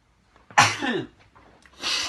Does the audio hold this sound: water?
no